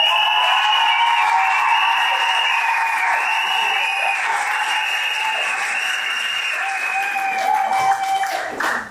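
Wedding guests at a civil marriage ceremony in Gabon applaud the bride, a dense, steady round of clapping from a crowd that holds for the whole stretch, with faint voices and a few cheers mixed in before it fades at the end.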